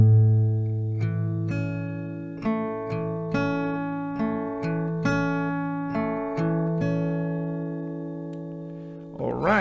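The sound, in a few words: acoustic guitar playing final part of song slowly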